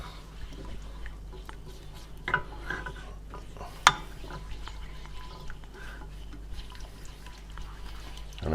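Eggs being stirred and worked in a pan over the lowest stove setting for an omelette, soft scraping and light clinks of utensil against pan, quiet and close, with a couple of sharper taps.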